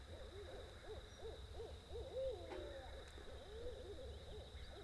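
Owls hoot repeatedly in a rhythmic series on a morning of spring turkey hunting on public land in Florida, moderately distant over steady outdoor background noise.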